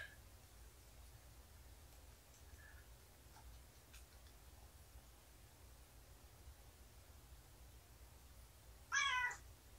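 A single short cat meow rises near the end, over a steady low background hum; otherwise no clear sounds.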